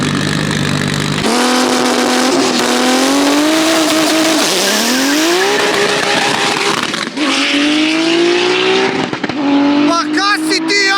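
A 900-horsepower drag race car at a drag strip accelerates hard, its engine climbing through rising pitch sweeps with gear changes, loud and close, and ends with sharp popping bursts.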